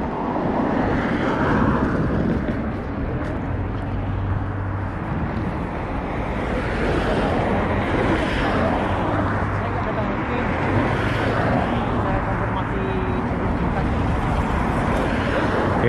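Fast cars rush past on a busy roadside near a mosque, a constant roaring traffic wash with wind buffeting the microphone and a person talking over the noise.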